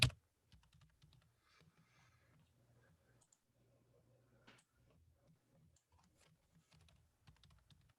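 Someone typing a short word on a computer keyboard, giving soft, quiet, close key clicks in brief uneven bursts with pauses between them.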